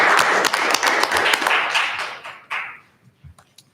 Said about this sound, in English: Thank you for that hand clap of praise.